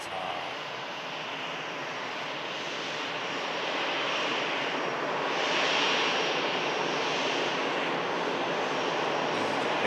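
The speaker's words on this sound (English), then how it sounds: "Egypt Air Neo on the taxi as well. Should taxi out just behind the Saudia." An Egypt Air A320neo jet taxiing at Manchester Airport, its engines giving a steady, loud broadband roar that swells slightly around the middle and holds without interruption, with no voices.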